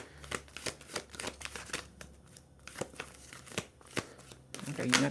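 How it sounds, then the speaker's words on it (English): Thick oracle cards are shuffled by hand close up in a rapid run of crisp riffling slaps and flutters. The shuffle keeps an uneven rhythm and grows into a denser rustle at the end. "these cards are really thick, so if I look like I shuffle it weird"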